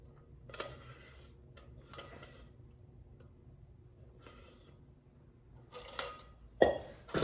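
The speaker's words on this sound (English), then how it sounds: "Even use a spatula to get all of that" Spatula scraping thick pear mincemeat pie filling from a bowl, heard as several short scraping strokes with quiet gaps between them and a few sharper knocks near the end.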